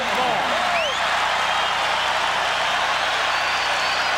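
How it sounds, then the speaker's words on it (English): A basketball arena crowd at a Portland Trailblazers versus Chicago Bulls game cheers and applauds, a dense, steady roar of many voices and clapping filling the space, with a few whistles rising above it. "And the crowd has picked up here a little bit."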